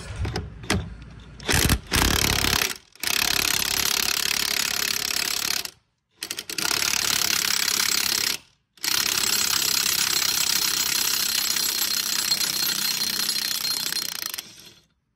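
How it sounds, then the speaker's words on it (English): A ratchet with an 18 mm socket turns a motor mount bolt on a 3.0L Ford Escape, giving loud, close, continuous clicking runs broken by short pauses between strokes, with no talking. "I've got an 18 millimeter socket to get this last one off"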